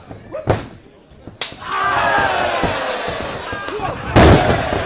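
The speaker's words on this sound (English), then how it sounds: "Kick by Kirby, followed by a drop kick again. This time Rampage does go down." A wrestler struck by a drop kick crashes onto the ring mat at an independent wrestling show, a sharp slam followed by a crowd roar while a commentator talks over it.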